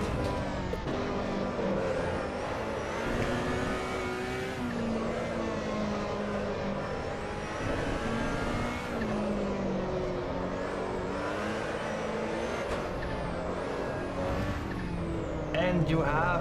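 A race car in the sim game Assetto Corsa EVO revs through the gears while warming its tyres on track, with a steady rising and falling engine note in the background and someone talking over it.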